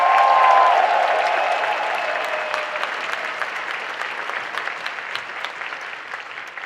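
A Star Wars Celebration panel audience applauds the EA DICE team, loud sustained clapping that starts strong and gradually thins and fades, with a few whoops and some sharper individual claps standing out near the end.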